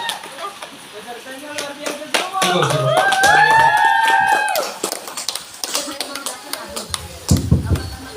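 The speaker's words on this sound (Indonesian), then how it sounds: "tepuk tangan sekali lagi buat teman-teman kita yang di depan yang hebat sekali hari ini" Scattered claps from the audience at a student debate final, praising the debaters, mixed with voices and cheering. A short burst of louder clapping rises near the end.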